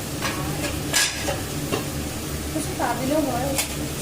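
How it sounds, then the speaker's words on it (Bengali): Spice masala sautéing in a pan for dalia khichdi, a steady sizzle with several spoon scrapes, while voices talk briefly in the background. "এদিকে যে মশলাটা কষা চলছে"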